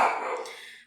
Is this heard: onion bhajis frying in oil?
no